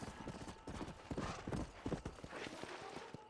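A horse galloping in Red Dead Redemption, a quick rhythmic run of hoofbeats thudding across the whole moment, fairly close and steady, with faint background ambience.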